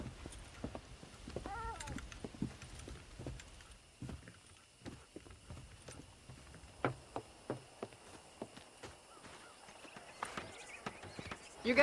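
In Red Dead Redemption, during a horse-breaking scene, horse hooves clop in an irregular sequence of sharp, distinct hits, with a brief whinny early on and quiet ambient noise underneath.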